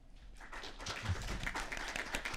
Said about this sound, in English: Strong applause, strong applause.